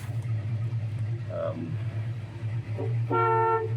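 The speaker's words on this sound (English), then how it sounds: "Horn works" A 1968 Ford Mustang gives one short, clear honk near the end, over the low, steady rumble of its idling engine, after a few brief sounds earlier.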